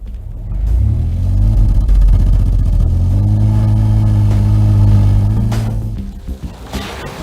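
A 1998 Intrigue car with a Shortstar engine revs up loudly and close by, its throaty drone climbing and holding through several seconds before easing off and dropping away near the end.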